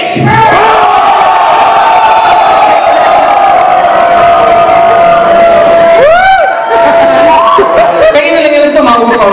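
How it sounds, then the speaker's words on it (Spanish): A crowd of men in a comedy show audience shouting a long, sustained "goal" cry in unison, loud and close, with cheering and whoops rising near the end. "Cuando yo cuente tres, los hombres van a gritar gol."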